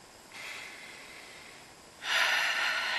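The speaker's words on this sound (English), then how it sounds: "Take a deep breath" A single deep breath drawn in, then a longer, louder exhale blown out close up, with no talking around it.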